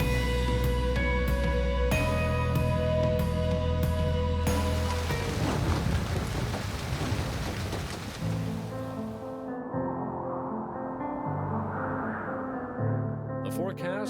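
Outdoor rain and thunderstorm on a coastal river while fishing for fall Chinook, with a continuous rush of rain and deep thunder rumbles that fade into a steadier patter, faint tonal background sounds running through.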